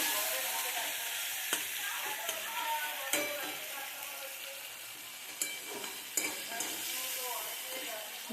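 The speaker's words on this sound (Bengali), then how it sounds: "তার জন্য চিংড়ি ভাজা চলছে এখন" Steady, bright sizzling of shrimp frying in a pan, with a few sharp clinks of a utensil scraping and stirring.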